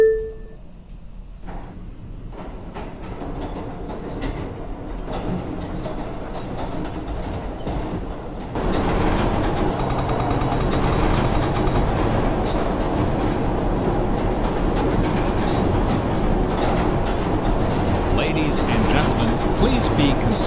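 A Brooklyn-bound Q local New York City subway train rumbles and clatters along the tracks, a quieter interior hum giving way to a louder, steady roar, with a brief high tone partway through.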